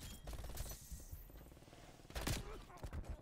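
Mac-10 submachine gun fire in a video game, short rapid bursts among other game sounds and music, with a louder burst near the end.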